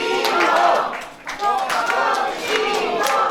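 Wedding guests clap after a toast to the newlyweds, brisk, fairly loud clapping mixed with lively voices from the crowd.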